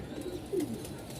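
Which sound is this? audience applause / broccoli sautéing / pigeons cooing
pigeons cooing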